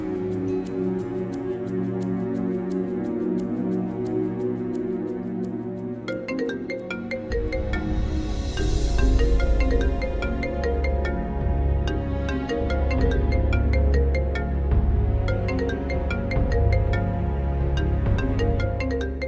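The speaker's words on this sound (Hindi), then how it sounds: "किसका फोन है बेटा?" A phone ringtone plays as a continuous melodic electronic tune with steady tones, loud and alone, over a soft musical underscore in a Hindi drama scene.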